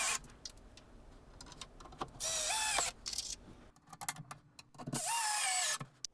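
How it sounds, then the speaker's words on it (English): A power driver sinks countersunk screws into a wooden faceboard on a cupboard: two short whirring bursts with rising pitch, close by, separated by quieter handling clatter and knocks. "I first cleaned up the face and then attached a faceboard with countersunk screws and glue"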